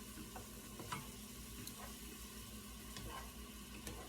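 Garlic sweats quietly in a hot pan for a vegetarian lasagna, giving a soft, steady sizzle with occasional faint ticks and stirring sounds, close but low in level.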